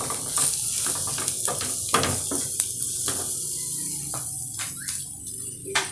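Chicken gizzard stew sizzles steadily in a hot pot while a spoon stirs and scrapes, with several sharp clinks against the pot's side; close and continuous, with no voices.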